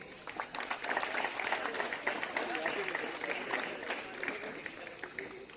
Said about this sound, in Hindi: तो एक बार जोरदार ताली हो जाए आप सब लोगों के लिए